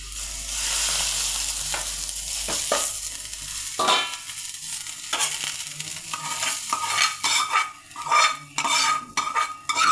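Browned onion and chili poured into a pan for an idichakka (tender jackfruit) thoran, setting off frying and sizzling, with stirring scrapes and clinks of utensils against the pot throughout; no talking.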